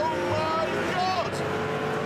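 A Maserati sports car with a 6-litre V12 shared with the Enzo revs hard as it accelerates, a dense continuous roar with rising engine tones, loud and close, while a person talks excitedly over it.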